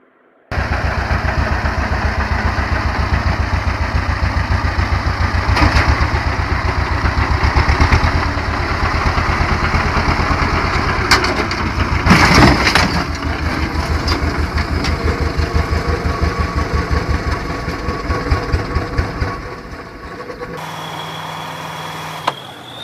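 A tractor engine idling, a steady close mechanical chug with a low throbbing pulse running throughout, a few clanks and knocks on top, before the engine cuts out near the end.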